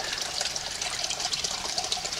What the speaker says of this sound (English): there's a little water spilling out right here below me